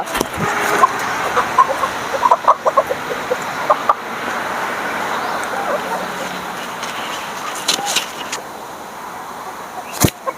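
A peahen calls on a farm among other poultry, with loud, close, repeated sharp cries and clucking over a steady outdoor background, ending with one strong burst near the end.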